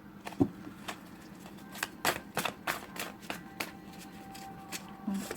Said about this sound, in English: and I'm shuffling for the last clarity card.